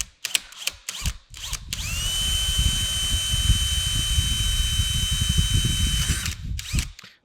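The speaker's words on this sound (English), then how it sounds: "we're going to drill a hole" A power drill bores a hole into a metal planer casting at the end of a crack, in one steady, loud run of several seconds, with a high whine over grinding and rattle, bracketed by brief clanks.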